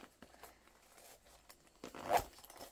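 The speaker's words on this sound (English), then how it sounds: "I can just basically zip it back up. And then my zippers are on one side." A zipper on a sublimation tumbler pouch is pulled closed in a few quick rasping strokes, with a louder final tug at the end, close up in a quiet room.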